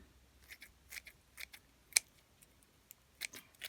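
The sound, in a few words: scissors cutting wood ear mushrooms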